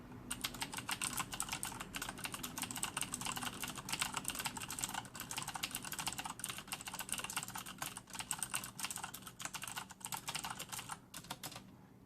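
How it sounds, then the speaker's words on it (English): Continuous fast typing on a Corsair K70 keyboard with Cherry MX Blue switches makes a dense, crisp clicking that runs evenly and close-up for the whole stretch, with no speech. "Each and every single keystroke is buttery smooth, and it sounds just fantastic to the ears."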